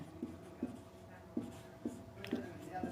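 Chalk or marker strokes on a board during a Hindi physics lecture on force and Newton's laws of motion: six short, evenly spaced taps and scrapes, fairly faint, with a low room hum behind them.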